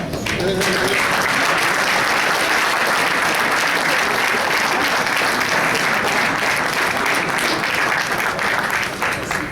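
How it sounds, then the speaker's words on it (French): Sustained audience applause at an Organo Gold business presentation, steady and loud throughout as a roomful of people claps together, with crowd noise mixed in. "Si vous pouvez juste vous lever, on va vous donner une bonne main d'applaudissement."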